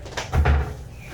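A small door on a trash can cabinet at a veterinary clinic swings shut with one short, close knock and a brief rattle, alone.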